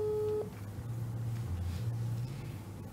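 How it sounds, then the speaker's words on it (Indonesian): Telephone tones on a callback from an office phone, a short high beep and then low steady ringback tones repeating over a faint background murmur. "saya telepon balik saja"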